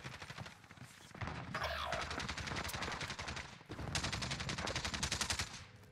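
Rapid gunfire in a Call of Duty match, with shotgun blasts mixed among bursts of automatic fire, loud and close, running almost continuously with a short break midway.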